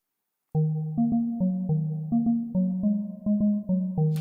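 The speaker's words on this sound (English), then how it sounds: "So I just brought out this rubber pluck." A rubbery plucked synth plays a bouncy repeating pattern of short, muted notes with quick decays, clear and upfront with no talking.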